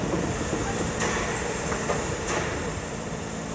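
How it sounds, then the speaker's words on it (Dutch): Steady rumble of a steam train arriving at a station, with faint clanks and a couple of high metallic screeches from the wheels. "Aankomst in een station."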